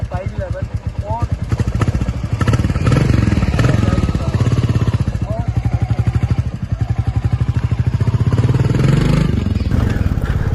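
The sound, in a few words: Royal Enfield Classic 350 motorcycle engine running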